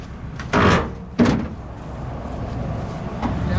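Two solid thunks as the door of an old Dodge Power Wagon pickup, a Slant 6 four-wheel-drive truck, is swung and shut in quick succession, close by and loud, followed by faint outdoor ambience.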